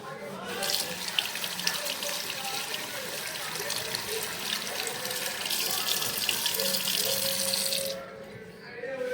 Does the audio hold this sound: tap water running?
yes